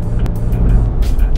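A 2015 Toyota 4Runner TRD Pro braking hard from 40 mph, giving a brief, loud, close rumble of engine and road noise.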